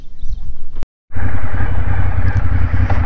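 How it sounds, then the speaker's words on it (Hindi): Ducati Diavel motorcycle riding at about 70 speed: a loud, steady engine roar mixed with wind rush heard from on the bike, broken by one brief dropout before the roar returns. "अब तो बाइक अभी 70 की स्पीड में चल रही है"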